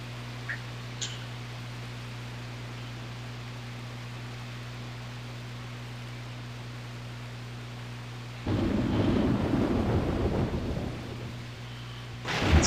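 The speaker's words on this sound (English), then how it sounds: "Yet the storm and rumblings only grew worse." Thunderstorm rumble from the video game Grandia 2: a steady low hum and noisy storm bed, then a loud rolling thunder burst in the last few seconds before fading, with no talk.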